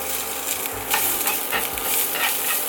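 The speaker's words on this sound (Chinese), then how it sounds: "锅热了，我们就加1汤匙的油。 加入我们的姜丝，" Shredded ginger stir-fried in a tablespoon of hot oil in a heated wok, a steady close hiss and crackle with light scraping stirring strokes throughout.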